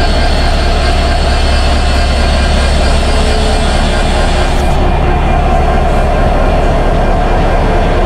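A train locomotive at Chuadanga railway station gives off a loud, continuous rumble and roar that holds steady throughout, with the highest hiss dropping away partway through.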